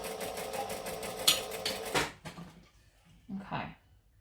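A sewing machine runs in a steady, close whirring burst as it stitches fabric, then stops, followed by a few clunks and handling noises while a person speaks.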